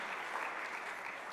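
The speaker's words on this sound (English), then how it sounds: "round of applause." A crowd at an inter-generational dialogue event in Accra applauds the panelists with a continuous, even wash of clapping, moderately distant and uninterrupted by voices.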